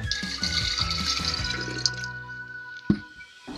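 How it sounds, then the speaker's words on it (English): Nitric acid is poured from a container onto military equipment relay contacts, giving a liquid gurgle with bubbling, tonal glugs, followed by a couple of sharp clinks near the end. "I will add 200 milliliter nitric acid"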